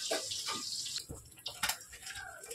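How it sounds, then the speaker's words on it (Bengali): Pabda fish fry in mustard oil in a covered pan. The sizzling and sputtering is soft and crackly, with irregular pops over a low background hiss. "ফাট ফাট করে ফুটছে।"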